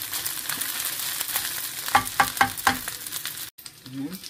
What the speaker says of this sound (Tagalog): Halayin natin ang ating fried rice.